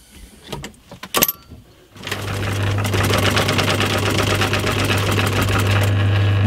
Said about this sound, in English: I'm going to start by sewing on the piping edge now